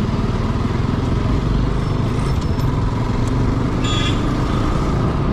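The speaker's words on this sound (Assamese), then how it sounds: "বাইকখন ময়ে চলাওঁ" A motorcycle rides along a road in Assam, its engine a constant close roar with wind rush, and a couple of brief high toots cut in near the middle.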